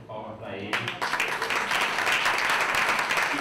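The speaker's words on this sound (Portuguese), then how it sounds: "peço uma salva de palmas para ele" Applause erupts from the audience at a Pint of Science Brazil event just after a brief stretch of speech, swelling into a continuous, fairly loud wash of clapping that carries on to the end.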